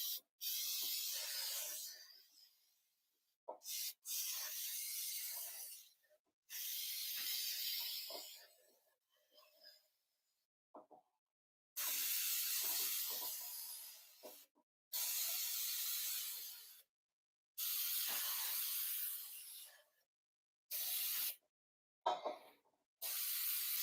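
Spray bottle hissing onto a cast iron bundt pan in a run of separate bursts, some long and some short, with silent gaps between them, close and fairly soft.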